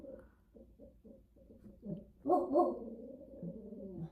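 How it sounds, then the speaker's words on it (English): A dog barks in a quick run of short, repeated yaps near the mic, followed by a louder, longer burst of barking toward the end. "Dog bark for confirmation."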